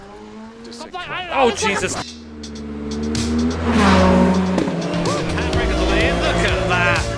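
A rally car in the video game Dirt Rally revving hard and shifting through gears, its tires squealing as it slides, loud and close, while someone talks excitedly over the engine.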